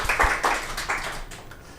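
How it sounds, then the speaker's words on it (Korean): Audience at a passive-house seminar applauding a presenting architect, a short burst of clapping that swells briefly and then thins out toward the end. "예, 박수로 해주십시오."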